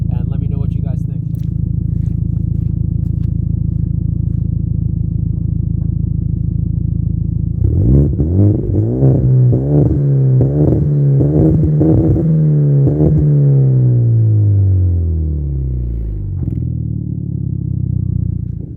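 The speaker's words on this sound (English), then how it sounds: "that's what the exhaust sounds like" Hyundai Genesis Coupe fitted with an ISR race exhaust idles with a steady low drone, then barks through a series of quick revs that climb and fall before settling back to idle, loud and close.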